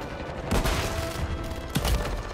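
Pistol fire in a video game, two or three sharp loud shots spaced about a second apart over steady background game noise, with no talk.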